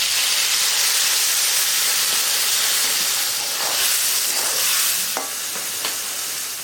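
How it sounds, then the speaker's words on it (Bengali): A spice paste is being stirred in a frying pan for a jackfruit and soybean curry. The sizzle is steady and broad, with scraping strokes of the spoon surfacing now and then, close by and with no talk. "গোলানো মশলাটা 1 মিনিট নাড়াচাড়া করে নিলাম"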